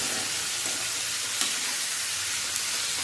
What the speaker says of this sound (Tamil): கத்திரிக்காயும் நல்லா எண்ணெயில் 2 வதக்கலாம்.